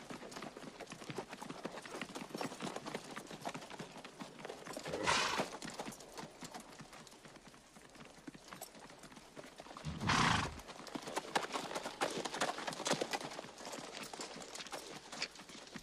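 Horses trot steadily with continuous clip-clop hoofbeats, with two louder surges of movement or whinnying along the way.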